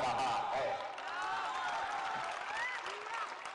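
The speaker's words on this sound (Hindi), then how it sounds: "अब बजा लो ताली जितना बजावे के बाद" Dense crowd applause at a political rally in Bihar, a steady wash of clapping with some cheering filling the whole stretch while a speaker's voice runs underneath.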